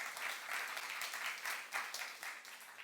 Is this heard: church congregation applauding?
yes